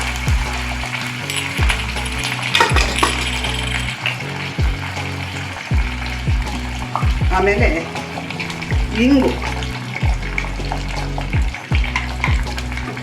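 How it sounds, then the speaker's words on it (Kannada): Mustard seeds, broken dried red chilli, curry leaves, cashews and asafoetida sputter in hot oil as a tempering for bisibelebath, a steady crackle with sharp pops running under close speech. "ಇಷ್ಟು ಒಗ್ಗರಣೆ ಚಟಪಟ ಆದ ತಕ್ಷಣವೇ ಹಾಕ್ಬಿಟ್ಟು ಕೂಡಿಸ್ಬಿಟ್ರೆ ಆಗೋಯ್ತು"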